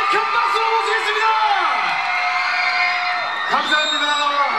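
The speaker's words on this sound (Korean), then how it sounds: "우리 강남 1970의 배우분들과 감독님을 큰 박수로 모시겠습니다" Fans at the Gangnam 1970 red-carpet roadshow scream and cheer in high, wavering shrieks as the film's cast, including Lee Min Ho, and the director are welcomed, a dense crowd din that swells and dips throughout.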